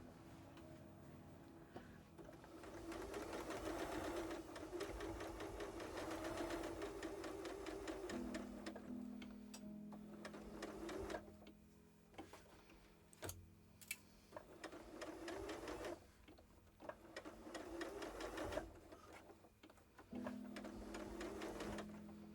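A sewing machine stitches fabric for a handsewn kitten, a rapid mechanical whirring that runs steadily, pauses and restarts with short bursts and clicks, close and fairly quiet.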